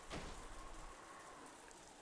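Cold rain from the video game Umineko pours in a steady, soft hiss, with a brief brighter splash near the start before settling into an even wash.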